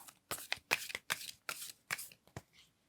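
Tarot cards being shuffled and drawn by hand, a series of crisp, close riffling and sliding bursts in an uneven rhythm, alone and fairly quiet.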